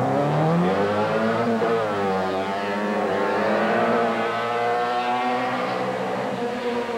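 A modified Mini Cooper S race car at a 1987 Canadian autoslalom revs hard and loud, its engine pitch swinging up and down as it spins out nearby close to a cement wall, with no talk over it.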